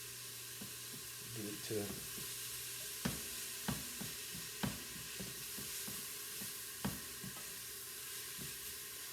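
Onions sauté in a pot of homemade soup with a steady, close sizzle, broken by sharp scrapes and knocks as they are stirred, and a brief spoken remark partway through.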